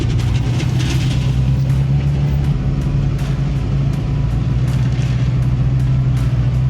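A pickup truck's engine revs hard and steady while its wheels spin, a loud continuous rumbling drone heard up close with some rattling bursts throughout.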